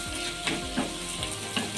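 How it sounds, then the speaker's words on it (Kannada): Onions frying in a pan until brown, a dense steady sizzle close up, with soft periodic scrapes of stirring breaking through the hiss. "ಬ್ರೌನ್ ಕಲರ್ ಬರೋ ಥರ ಫ್ರೈ ಮಾಡ್ಕೋಬೇಕು ಸ್ವಲ್ಪ"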